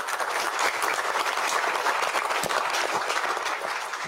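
Sustained audience applause fills a county commissioners candidate forum, dense and steady clapping from a room full of people that holds at an even level throughout before easing slightly at the end.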